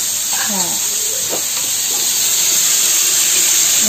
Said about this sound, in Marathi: आता त्याच्यामध्ये ही बटाटी टाकायची.